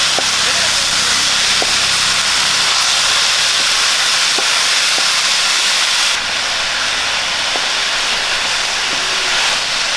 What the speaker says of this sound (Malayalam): നമ്മൾ ഇതിനകത്ത് വെള്ളമൊന്നും ചേർക്കുന്നില്ല ഇത് നല്ലപോലെ ഇളക്കി ഫ്രൈ ആക്കി എടുക്കാം